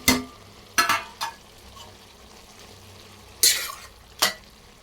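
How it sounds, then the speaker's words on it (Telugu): Four cut tomatoes cook in a frying pan: a low, faint sizzle runs underneath while a utensil scrapes and stirs in several short, sharp bursts. "దీంట్లో ఒక 4 టమాటాలు కట్ చేసిన టమాటాలు వేస్తున్నా."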